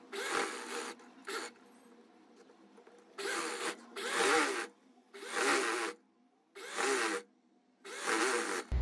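Sewing machine stitching a trouser pocket seam in bursts, five or six runs of rapid mechanical whirring separated by short pauses, close and fairly loud with no talk.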